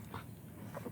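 Newborn puppies from a litter of seven give soft, high whimpers in two brief bursts close by, over a low steady background.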